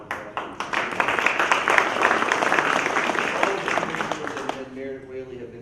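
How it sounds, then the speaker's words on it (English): An audience at a library exhibit event claps for the commissioners in a moderate burst of applause lasting several seconds before fading out. "if I can just have a round of applause"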